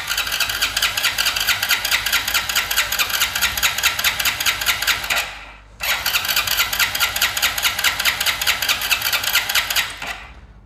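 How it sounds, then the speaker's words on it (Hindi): A BS6 motorcycle engine with its fuel pump removed runs loud and close with a steady, buzzing drone. It cuts out briefly around the middle, then roars back and runs on until it stops abruptly. "मैं खुद पहली बार स्टार्ट कर रहा हूँ गाड़ी को"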